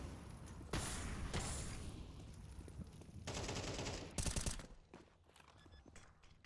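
Bursts of gunfire in Counter-Strike 2, fired through a smoke grenade cloud during a professional match; several loud rapid volleys, with a sharp final burst around the fourth second before the sound settles to quieter movement.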